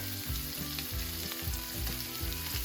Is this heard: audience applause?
no